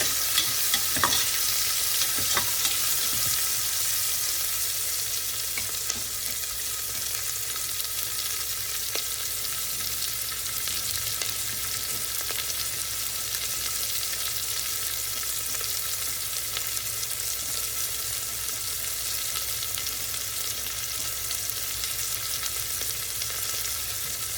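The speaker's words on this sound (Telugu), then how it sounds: "ఉల్లిపాయ ముక్కలు బాగా ఫ్రై అవ్వాలి, కనీసం గోల్డెన్ బ్రౌన్ షేడ్ వచ్చే వరకు ఫ్రై చేసుకోవాలి" Onion pieces frying in a pan toward golden brown, a loud, steady sizzle heard close up throughout, with a few faint clicks of stirring near the start.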